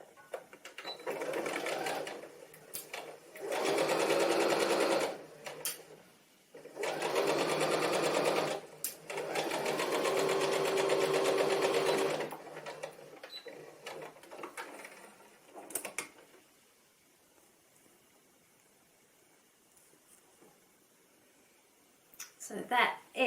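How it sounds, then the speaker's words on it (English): A sewing machine stitches dress lining and outer fabric together at shoulder and side seams, running in three loud bursts of rapid mechanical whirring separated by pauses, then quiet handling noises near the end. "the first thing that the instruction says to do is to sew the lining and the outer fabric right sides together at the shoulder seams and at the side seams"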